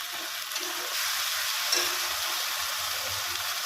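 Water from washing sesame is poured into mutton curry spices sizzling in oil. A steady frying hiss swells partway through into a fuller, bubbling sizzle, continuing close and unbroken.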